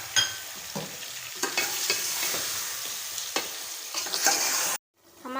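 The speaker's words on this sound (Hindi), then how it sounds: "और इसको भूनेंगे।" Chicken and tomatoes frying in a pan for biryani, with a continuous sizzle and intermittent scraping stirs, close, ending abruptly in near silence.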